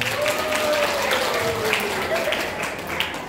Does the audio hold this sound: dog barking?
no